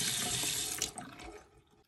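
Hot water runs from a household tap into a sink after an electric water heater reset, a steady close splashing rush that tapers off toward the end as the flow is shut.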